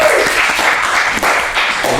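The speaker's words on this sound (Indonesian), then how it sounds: "Tepuk tangan dulu dong." Audience applause at an Indonesian talk show, a steady wash of clapping lasting about two seconds with a brief dip near the middle.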